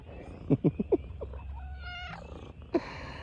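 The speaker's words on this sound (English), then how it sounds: "Just me and my cat." A domestic cat gives a series of short, close meows in quick succession, then a longer, drawn-out wavering yowl over a low purring rumble, and finally one more meow.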